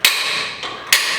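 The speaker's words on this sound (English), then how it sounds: "Then we're gonna use our metal hole punch" Two sharp hammer strikes on a metal hole punch marking drill holes, ringing metallically at close range, with a softer tap between them.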